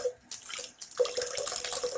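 Tap water running into a bath while a hedgehog is rinsed, splashing and gurgling in uneven bursts after a brief pause, close by and without talk.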